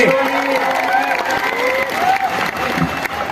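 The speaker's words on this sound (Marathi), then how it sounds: "सचिन पुजारीसाठी करायची टाळ्या सर्वांनी" Crowd at a village wrestling bout in Chandur near Kolhapur applauding together, a dense sustained wash of clapping with cheering and a voice rising over it throughout.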